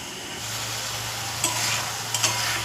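Ground spices frying in a pan for a simple home-cooked curry, stirred steadily, giving a continuous close sizzle with a few light clinks of the spoon against the pan.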